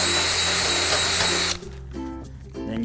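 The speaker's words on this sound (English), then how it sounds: "Just clear out the hole first with a 3mm drill bit." A power drill with a 3 mm bit whirs steadily while clearing a hole in the metal panel of a flat-roof aviary shed, then cuts off, leaving quiet handling clicks.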